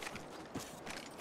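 A weapon reloads in the video game Apex Legends: a quick series of mechanical clicks and a ratcheting clack in about a second, close and fairly quiet, with no voices.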